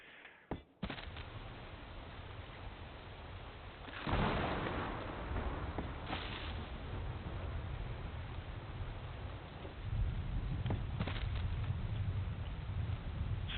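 Rain falls steadily outdoors: a dense, continuous hiss and patter with occasional heavier thumps and swells in loudness, with no voices.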